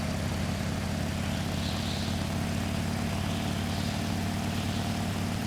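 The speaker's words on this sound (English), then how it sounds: "rev up the engine until you hit maximum speed" A motorbike engine revs steadily in a Nintendo Switch 2 Joy-Con tech demo game, a continuous droning hum held at a constant pitch throughout with no pauses.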